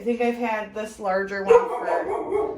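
Dogs bark and whine repeatedly in the background while a person keeps talking over them.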